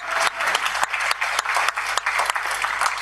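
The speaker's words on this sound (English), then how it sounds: "A round of applause for our moderator." An audience at a youth agrifood systems panel event applauds the incoming panel moderator, a dense, steady burst of many hands clapping that fills the whole stretch, loud and close with no talk over it.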